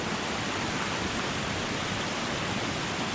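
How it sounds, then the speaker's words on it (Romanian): Light rain falls in the 7 Scari mountain canyon, making a steady, even broadband hiss that holds unchanged throughout with no voices. "Problema e că a început și ploaia."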